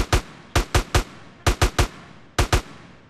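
AK-47 fire in GTA San Andreas, loud sharp single shots and quick doubles and triples spaced irregularly, each with a short decaying tail over a quiet background.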